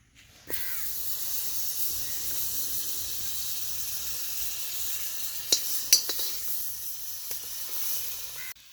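Butter sizzles in a pan for paneer butter masala in a village kitchen, a steady soft hiss that starts abruptly and carries faint pops and crackles, with no talking.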